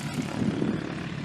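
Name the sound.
helicopter flying in the distance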